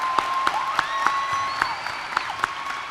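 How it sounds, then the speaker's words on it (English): Graduation audience applause in McLoud, Oklahoma, steady crowd clapping with sharp louder claps punctuating it and a faint whistle-like tone running through. "Let's give them a huge round of applause"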